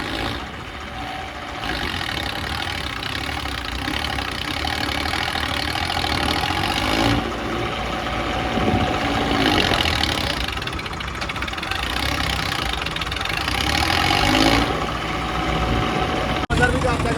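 A JCB machine's engine runs steadily at a Punjabi farm, a continuous mid-pitched rumble with some swelling, while people talk over it.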